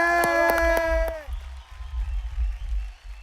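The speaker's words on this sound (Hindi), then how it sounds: "एक बार जोरदार तालियां हो जाए सानिया मल्होत्रा और अनंत के लिए" A studio audience bursts into applause and cheering for actors Sanya Malhotra and Anant, starting under a loud musical sting with rhythmic hits, then continuing as scattered clapping and whoops that fade somewhat.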